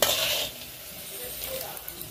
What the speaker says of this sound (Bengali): এবার খিচুড়ির মধ্যে বাদাম নারকেলটা দিয়ে দেবো।